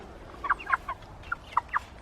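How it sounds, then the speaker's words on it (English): Old hens cluck in short, soft, scattered bursts, about seven quick notes over two seconds against faint outdoor background noise, with no talking. "they're lovely old chickens"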